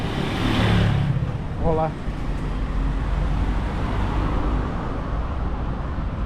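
Cars driving by on a street in Lima, Peru: a continuous roar of passing traffic close by, loud and steady, with a brief spoken greeting early on.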